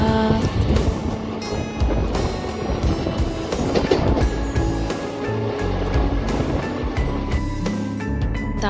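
A passenger train travels toward New Farakka with a loud, continuous rumbling roar and rattling clatter, heard from inside the moving carriage.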